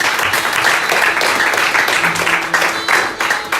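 Congregation applauding during a church sermon, a steady dense wash of many hands clapping at close range, sustained and even throughout with no talk over it.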